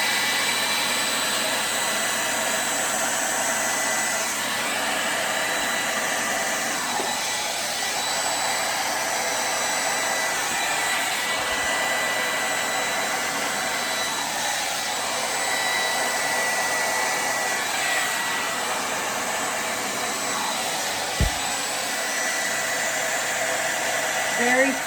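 Hair dryer blowing steadily across wet acrylic pour paint, a loud continuous whoosh that holds almost unbroken for the whole stretch, with only small shifts as the air is moved around.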